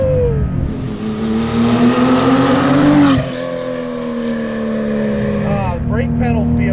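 A Guntherwerks 400R, a Porsche-based sports car, accelerates hard in third gear through a tunnel, its engine climbing in pitch to a loud, reverberant wail, dipping at a shift, then pulling again with crackles on the overrun.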